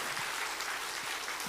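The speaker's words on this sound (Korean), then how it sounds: "박수." A congregation claps during a Sunday daytime church service, a steady even patter of many hands that holds through the moment and ends in a sudden louder burst.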